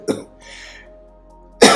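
A patient with a large abdominal incisional hernia coughs, producing a short close burst, a faint breathy pause, then a second sharp cough at the end.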